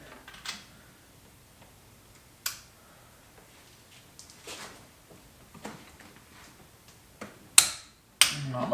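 A torque wrench clicking while head studs are re-torqued: sparse, sharp clicks and ticks at irregular intervals, with a few louder clacks near the end, against a quiet background.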